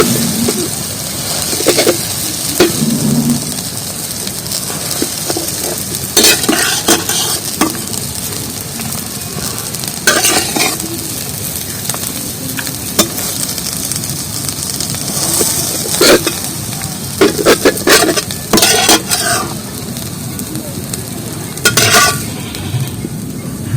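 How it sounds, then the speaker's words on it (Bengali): Eggs frying in a pan make a steady sizzle throughout, broken by repeated scraping and stirring clatters from a utensil, close and fairly loud with no talking. "ডিমগুলো আমার ভাজা করা হয়ে গেছে"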